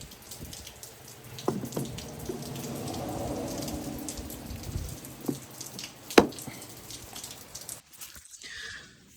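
Cooling system cleaner poured into a Toyota 4Runner or Tacoma coolant reservoir, a soft trickling gurgle of liquid with a few clinks and taps against plastic, close and fairly quiet.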